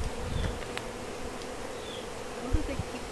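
Swarm of honey bees buzzing around a homemade bee trap outdoors, a soft, continuous hum of many wings with individual bees passing close now and then.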